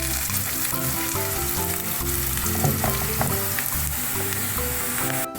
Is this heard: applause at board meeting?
no